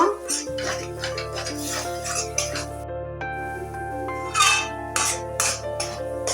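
A spoon stirs a bottle gourd chop filling as it fries in a pan, giving light scrapes and clinks against the metal over a steady low sizzle, fairly close.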